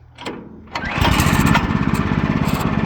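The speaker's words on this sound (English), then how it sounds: "We'll let it idle." A small engine, likely a mower-type motor on a welded frame, coughs into life and settles into a steady, close, rumbling idle with a fast, even pulse.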